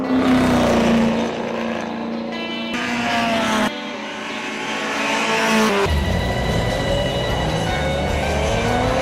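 Race car engines roar past in an auto race, loud and continuous with pitch sweeps and Doppler shifts as cars pass close by, one after another, with no talk.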